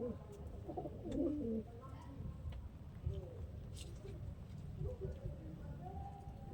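Giribaz pigeons, a male and female pair kept as pets in Lakhikantapur, coo in soft low murmurs through the whole stretch, fairly faint, with someone talking over them.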